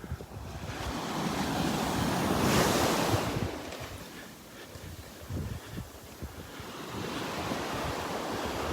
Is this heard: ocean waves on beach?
yes